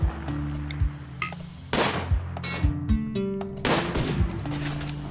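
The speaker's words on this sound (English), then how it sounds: "The colonists keep firing upon them late into the night." Gunfire from colonists in RimWorld, repeated sharp shots and bursts at irregular intervals over a low humming background, some loud and close, others lighter, with tonal game sounds mixed in.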